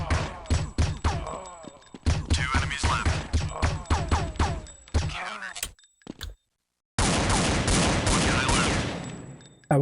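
Rapid bursts of gunfire in a video game with an aimbot locking onto the closest enemy, loud, dense volleys of shots with sharp impacts, a brief silent gap, then another sustained stretch of firing.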